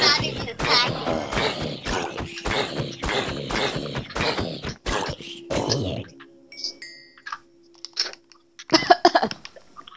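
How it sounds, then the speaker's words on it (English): A run of rapid, loud coughs in quick succession for several seconds while playing Minecraft, then quieter game ambient sounds with a faint tone and a brief burst near the end. "Cough."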